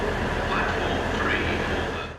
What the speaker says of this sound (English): this is the busiest station in the UK, and you can see behind me here, it's about the busiest minute of the day